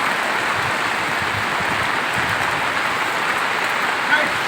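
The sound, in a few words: heavy rain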